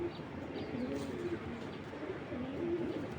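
A racing pigeon coos softly in a few low, rolling phrases, quiet and close over faint background noise.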